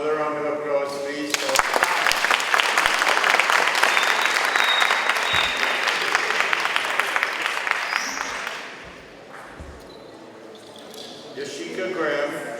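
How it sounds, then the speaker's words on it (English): Audience at a poetry reading breaking into sustained applause, a dense clatter of many hands close by that swells, holds for several seconds and then fades into quieter room noise. "Another round of applause, please."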